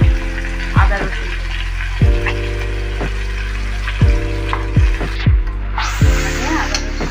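Ginger and garlic frying in a pan for prawn malai curry, a loud continuous sizzle broken by several sharp clanks of a spoon against the pan at irregular intervals.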